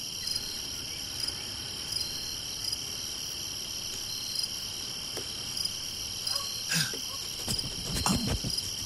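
Steady, pulsing high chirping of crickets or small frogs on a vinyl pressing of Roger Waters' The Dark Side of the Moon, played through a Clearaudio cartridge, with soft surface clicks and a few louder crackles near the end.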